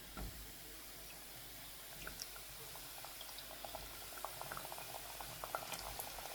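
Churma muthiya dough pieces frying in hot oil, a faint continuous bubbling and crackle with scattered small pops, fairly quiet and steady, no talking.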